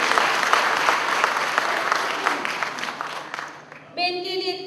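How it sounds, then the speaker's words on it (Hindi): An audience at a Bhopal poetry recital breaks into steady, dense clapping that fills most of the moment, then thins out near the end as a brief, tonal whoop rises over it. "एक बार ताली बजा के बताइए"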